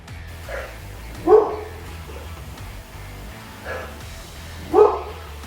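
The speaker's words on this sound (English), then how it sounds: "I have no clue what you're barking at, but I have to bark too" Two dogs bark on the other side of a fence, short separated woofs and yips spaced a few seconds apart over a low steady rumble.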